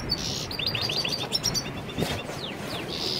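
Canary chicks chirping and trilling in short, high bursts over a constant low background hiss. The calls are fairly faint and scattered across a few seconds.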